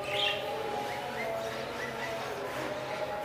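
Budgerigars in an aviary chirp and twitter in soft, overlapping calls, with a brighter burst at the start and light background noise throughout.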